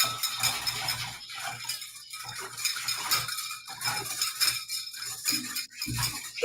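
A utensil stirs powder into cold or boiling water in a kitchen, producing repeated scraping and clinking strokes against the container in an irregular rhythm, close and clear with no talking.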